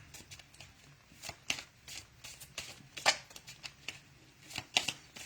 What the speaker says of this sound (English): Okay, so I'm just shuffling.